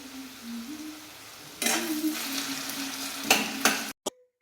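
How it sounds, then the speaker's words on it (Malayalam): Thinly sliced potatoes frying in a pan give a soft, steady sizzle that grows louder as they are stirred, with a few utensil scrapes near the end, close and clear with no talking. "ഞാൻ വേഗം ഇങ്ങോട്ട് പൊരിച്ചെടുക്കാൻ വിചാരിച്ചു"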